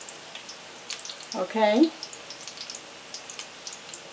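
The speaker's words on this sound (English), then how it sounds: "you want to constantly check and constantly turn it over, so don't leave the frying pan because they can burn pretty fast." Stuffed chicken egg rolls fry in a pan with a soft, steady crackling sizzle, while someone briefly speaks once in the middle.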